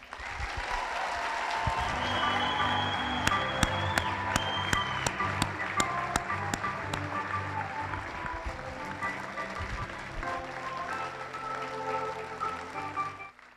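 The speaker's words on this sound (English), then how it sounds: "let's have a round of applause for our guest of honor" A crowd applauds for guest of honor Joe Panik at a recognition ceremony, with steady, sustained clapping that fills the room for the whole stretch and a few sharper claps ringing out near the front.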